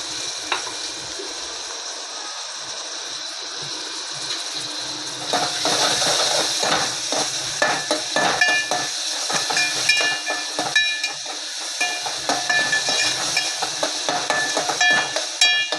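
Onion frying with half a spoon of salt in a hot pot, a steady hiss that swells louder partway through, with scraping stir strokes clicking irregularly over the sizzle.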